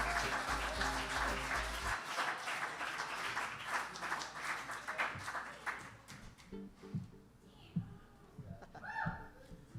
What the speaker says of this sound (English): I know you just applauded